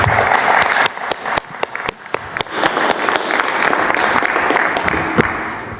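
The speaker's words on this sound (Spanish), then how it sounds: "Un aplauso." Audience applause at a presidential morning press conference on water reforms: a few separate sharp claps at first, swelling into steady, fairly close clapping from a crowd that carries on to the end.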